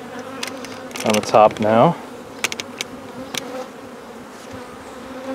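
Honey bees buzz around an open hive during an inspection as a colony prepares to swarm, with a steady low hum and a few louder close passes, while a person speaks briefly.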